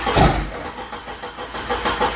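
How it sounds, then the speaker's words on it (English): A 1988 Jeep YJ, abandoned for years, catches on carburetor spray and runs with a rough, pulsing engine note, close and loud, without voices. "it's just running off of what I sprayed in the carburetor in the throttle body"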